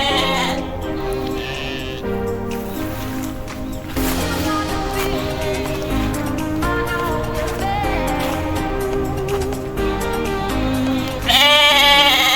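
Goats at a village farm bleat near their pen, several wavering calls over steady loud background music, with one strong, trembling bleat standing out near the end.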